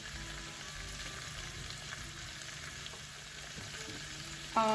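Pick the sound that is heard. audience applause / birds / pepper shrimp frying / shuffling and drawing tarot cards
pepper shrimp frying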